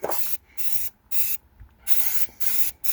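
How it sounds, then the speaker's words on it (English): Short bursts of spray paint hissing from an aerosol can onto a truck frame, five or six sprays of about half a second each separated by brief pauses, close by. "We switched over to spray cans now."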